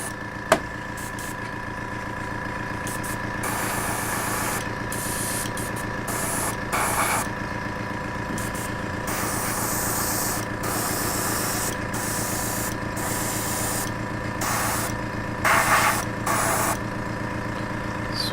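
An airbrush sprays paint onto MDF tabletop terrain, a steady close hiss with a compressor humming underneath, broken by short pauses and bursts as edges, corners and flat panels are covered.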